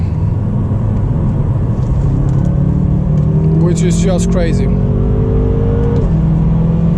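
A 2011-2016 BMW M5 F10 engine pulls under acceleration with quick rising tones and rapid dual-clutch gear changes, while someone talks over the steady road rumble.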